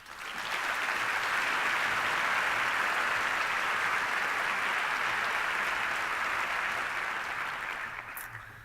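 An audience at a reading celebration gala in Dallas breaks into sustained applause to welcome a speaker, the clapping swelling quickly, holding steady and dense for several seconds, then tapering off toward the end.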